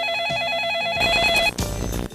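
A telephone rings loudly and close by with a repeating electronic warbling trill, which gives way to fuller, music-like sounds for the last second.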